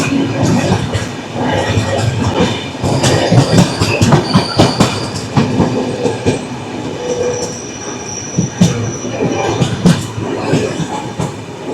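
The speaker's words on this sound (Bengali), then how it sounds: "থাঞ্জাভুর কোল্লাম এক্সপ্রেস।" The Thanjavur–Kollam Express rolls past close by, a loud steady rumble with clattering wheels over rail joints and occasional high metallic squeals.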